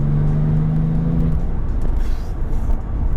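A Porsche 997 Turbo with manual gearbox pulls hard in fifth gear from 2500 rpm, its engine drone rising into a steady, loud rumble that carries right through, close and continuous with no talking.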